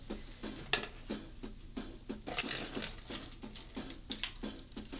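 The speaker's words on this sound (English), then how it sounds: "All right, we're gonna pour that in." Half a cup of hydrogen peroxide poured into a container for an elephant toothpaste experiment, a close, continuous splashing, gurgling stream with uneven bubbly pulses.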